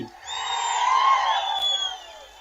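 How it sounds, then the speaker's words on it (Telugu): A large outdoor crowd at a TDP political election rally in Penukonda cheers and whoops in a sustained, loud roar that swells and then fades, with no clear separate clapping standing out. "అవసరం లేదంటే గట్టిగా చప్పట్లు కూడా చెప్పండి"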